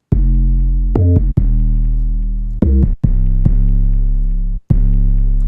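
Synth bass line played dry without Surfer EQ, a loud, sustained low tone in several long notes with sharp attacks and short pitch changes between them, no voices.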